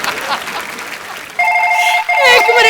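A bright electronic phone ring from a new phone chimes in steady repeated bursts, loud and close, following a stretch of background chatter on a TV comedy show.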